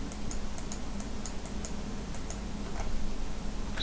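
A computer mouse clicks repeatedly while working in 3ds Max, giving faint, sharp, evenly spaced ticks over a quiet room hum.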